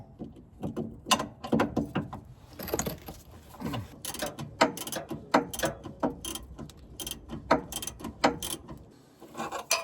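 A ratchet repeatedly clicks while loosening suspension nuts on a BMW E46 car, with close, bursty series of sharp ratcheting clicks and metallic knocks across the whole stretch, no talk.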